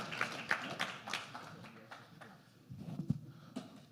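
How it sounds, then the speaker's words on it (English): Sparse, fairly faint clapping from an audience at a men's business forum, applauding their chairman in scattered, irregular claps with a little murmuring. "let's give my good chairman a warm round of applause"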